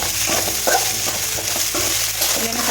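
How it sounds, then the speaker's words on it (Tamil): Potato pieces frying in plenty of oil in a pan for a Tamil-style potato stir-fry, stirred steadily with a utensil, giving a continuous close sizzle broken by scraping strokes. "நல்லா கை விடாமல் கிளறிட்டே இருக்கணும்"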